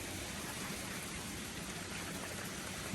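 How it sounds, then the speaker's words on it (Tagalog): Steady rain falls outside on a cold day, a dense, even hiss of drops that fills the whole stretch at a constant level, with no voices over it. "Hindi pala sa snow. Ano lang, ulan."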